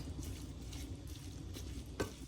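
Food frying in a pan while being prepared for a Kerala lunch, a soft steady sizzle with light stirring under it, fairly quiet throughout with a brief clatter near the end.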